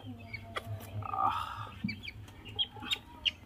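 Golden Sebright chickens, a male and a female, at a bird sale, with soft intermittent clucks and short squawks close by over a low background hum.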